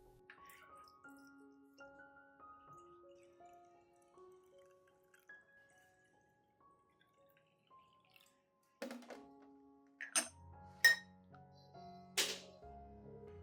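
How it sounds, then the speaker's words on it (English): Homemade organic rice-and-garlic fertilizer solution poured into a dedicated watering can, a faint liquid trickle with dripping splashes that enters after a stretch of soft background music. "First, pour the solution into a dedicated watering can."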